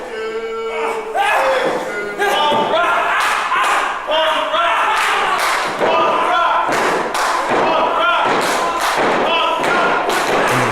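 A wrestler lands a drop kick in a professional wrestling ring, giving heavy thuds amid a loud, steady roar of crowd noise and arena music, with a commentator talking over it.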